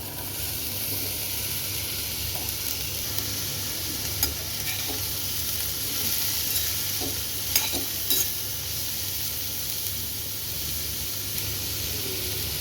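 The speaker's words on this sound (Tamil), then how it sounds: "வெங்காயம் ஒரு நிமிஷம் ஃப்ரை பண்ணிவிட்டு நம்ம இப்போ கட் பண்ணி வச்சுருக்கிற இந்த பீன்ஸை சேர்த்துடலாம்" Onions and chopped beans frying in a pan for a South Indian poriyal, a dense continuous sizzle with occasional light knocks and scrapes of a stirring spoon, close and steady without any talking.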